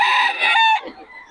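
A Boston Sweater gamefowl rooster crows once, close and loud, a short bright crow that breaks off into a rough trailing note, with no talking over it.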